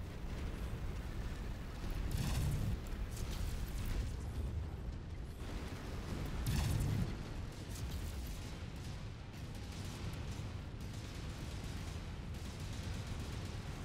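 Explosions in the modded MechWarrior 5 video game, heavy booming blasts around 2 and 7 seconds over a dense, continuous rumble of combat noise and machinery.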